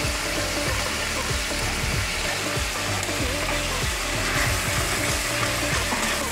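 A paste of ginger, garlic and green chili sizzles steadily in a frying pan with oil and browned onions while prawn rezala is cooked, with a loud continuous crackle and stirring, and no talking.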